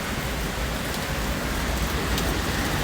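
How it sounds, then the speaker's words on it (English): Steady rain falling outdoors downtown, a dense even hiss of drops on pavement and surfaces that fills the whole moment, close and loud, with no speech. "I ain't know it was raining, that's why I ain't bring no umbrella."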